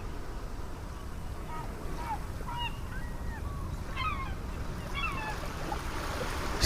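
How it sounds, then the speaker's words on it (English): Several seagull calls ring out in short squawking bursts over a constant wash of waves and wind on a virtual reality travel shoreline, moderately near and distinct. "Seagulls again."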